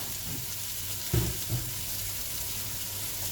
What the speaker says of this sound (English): let's sweat the onions for say 5 minutes